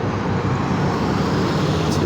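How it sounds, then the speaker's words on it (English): A truck rolls along University Drive with a steady, loud roadway roar that holds without a break, wrapped in general traffic noise. "I got a killing machine truck here."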